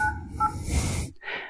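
Android phone dialer on a Poco X3 running a custom ROM, producing a few short electronic keypad tones in quick succession followed by a brief breathy noise, close and clear.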